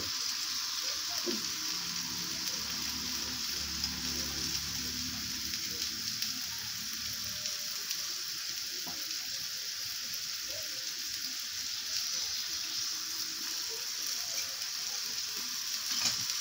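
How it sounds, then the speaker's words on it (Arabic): Small pieces of meat sizzle steadily in a pan, a soft continuous frying hiss with occasional faint stirring, moderately quiet and with no voices. "ملي غيتحمروا ليا هاد اللحيمات"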